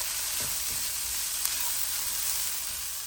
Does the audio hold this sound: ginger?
yes